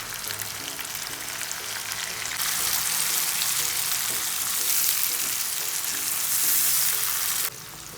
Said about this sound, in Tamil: வெங்காயமும் பூண்டும் நல்லா வதங்கட்டும்.